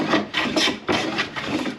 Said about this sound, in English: I'm bringing this depth down and I'm planing down to this lower part